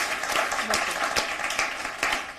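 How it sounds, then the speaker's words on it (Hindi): Crowd applause welcoming a poet at a poetry event, a steady dense wash of clapping from many hands that holds at an even level for a couple of seconds. "एक बार जोरदार तालियों से स्वागत करें"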